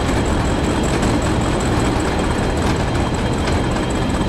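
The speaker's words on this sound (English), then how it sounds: "There's another train just passing. That's a carriage train." A commuter train rumbles steadily past in a tunnel in the Train Sim World game on the Tees Valley Line, a dense continuous low roar with no breaks and no voices.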